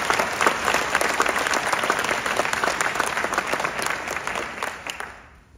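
Loud, sustained audience applause from a large crowd at a mayor's State of the City address, steady and dense before tapering off into quiet at the end.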